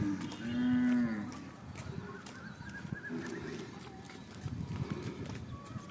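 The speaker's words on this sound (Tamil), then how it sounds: "அங்கே காளை மாடு இருக்குல்ல, வான் மெதுவா போ." A bull lows loudly and close in one drawn-out moo near the start, followed by rustling, footsteps and background voices at a rural spot.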